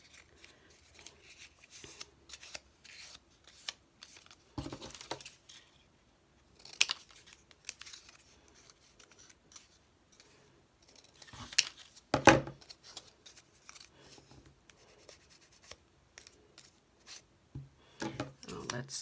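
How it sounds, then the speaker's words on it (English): Scissors snipping through the cardboard backing of a cheesecloth package, with several sharp cutting crunches and bursts scattered among quieter rustling, close by and mixed with intermittent speech. "I could feel the scissors going in the wrong direction."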